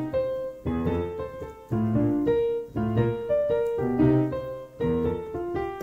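Solo piano plays a theme with a grooving left hand, short bouncy chord stabs and bass notes in a steady rhythm, close and moderately loud.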